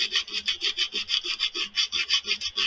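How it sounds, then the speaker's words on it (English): Sandpaper rubs against a white oak plate spinning on a wood lathe, a steady rhythmic swishing that pulses about five times a second, close and fairly loud with no talking. "I want to get into here and get more of the sanding done"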